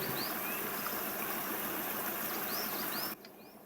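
A waterfall in Euro Truck Simulator 2 gives a steady rushing stream of water with faint bird chirps, even and moderately quiet, then dropping off abruptly near the end.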